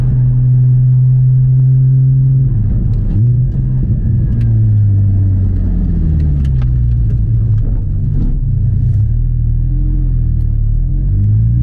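A Porsche Cayman GT4 981 with a Dundon-tuned engine, stated as gaining 70 hp, accelerates hard through several gears. The loud, close engine note climbs in pitch, drops at each shift and climbs again, with no talking.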